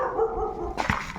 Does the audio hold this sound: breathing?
no